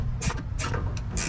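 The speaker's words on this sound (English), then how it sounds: "I'm going to tighten on the nut and not the screw" Several short bursts of metallic clicking from a 7/16 inch wrench tightening a nut on an aluminum bolt through a steel ladder bracket on an Owl Vans Explorer side ladder, close up with a steady low hum behind.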